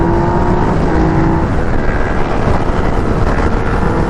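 2016 Yamaha FZ-09 motorcycle pulling in second gear at about 50 mph, a loud continuous engine roar mixed with heavy wind rush, steady throughout with no talking.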